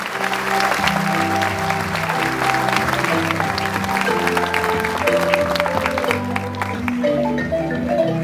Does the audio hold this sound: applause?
yes